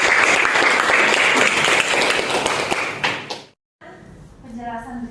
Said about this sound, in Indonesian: selamat siang dan tepuk tangan buat kita semua